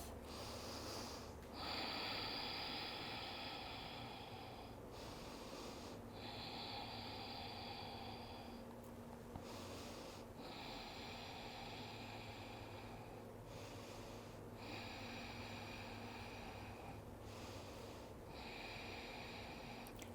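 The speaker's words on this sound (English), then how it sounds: "5 deep breaths." Slow, deep breathing during a yoga triangle pose, soft and close: long airy inhales and exhales with a nasal, snort-like rasp, repeated every few seconds over a low steady background hum.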